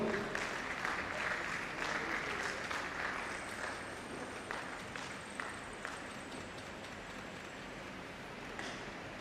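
Audience applause at a college lecture and award ceremony as the Dean of the College of Management Sciences steps forward; steady, moderately distant clapping fills the whole stretch, with a faint high tone partway through.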